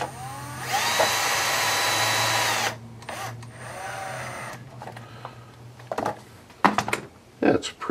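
A power drill drives screws into an Axial Yeti RC car during assembly: a rising motor whine for about two seconds, a shorter second burst, then scattered clicks and handling knocks nearby.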